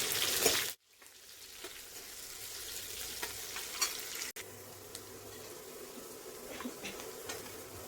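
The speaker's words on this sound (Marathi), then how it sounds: "कांद्याला हलकासा सोनेरी रंग येईपर्यंत परतवायचा आहे" Onions sautéing in a pan for a ridge gourd bhaji, a steady close sizzle and crackle with occasional stirring scrapes, briefly cut off near the start and then continuing evenly throughout.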